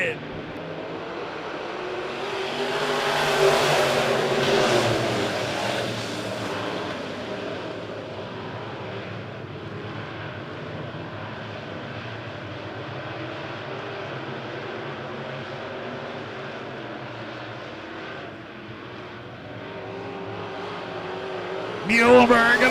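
A pack of race cars rolling off for an A feature at Monett Motor Speedway, their engines swelling into a loud, sustained roar that fades slightly, then builds again near the end, under an announcer's voice.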